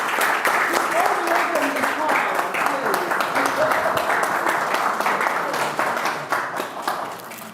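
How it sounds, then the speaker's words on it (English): Audience applause at a diplomatic conference, dense and sustained clapping from a crowd that tapers slightly at the end, with some voices mixed in. "A round of applause for him, please."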